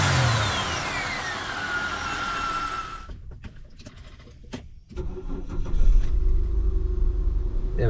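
A car engine idles quietly and steadily after its alternator was replaced with one taken from another car, running smooth with no squeal or belt squeak, a low even hum that grows slightly fuller after a brief dip.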